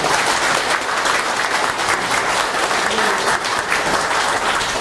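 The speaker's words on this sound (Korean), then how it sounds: "박수 한번 부탁드립니다." Loud, dense audience applause at a seminar on Park Chung-hee's North Korea and unification policy, filling the whole stretch steadily with crowd clapping and no voices.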